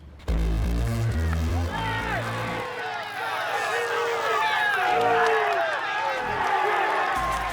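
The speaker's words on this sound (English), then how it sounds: "the sound of the best rider on the Tour being booed up Mont Ventoux" Roadside spectators boo Lance Armstrong as he climbs Mont Ventoux during the 2002 Tour de France, a dense, continuous mass of raised voices close by, with a low rumble at the start.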